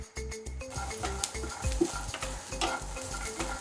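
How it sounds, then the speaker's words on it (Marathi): Garlic roasting in a pan for Maharashtrian mutton vadi, a steady close sizzle broken by quick stirring scrapes, with a low regular mechanical pulse running underneath. "आता यामध्ये लसूण टाकून घेऊन भाजून घेऊ."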